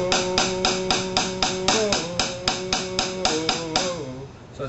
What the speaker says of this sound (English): Think of the drum sound from the Braves.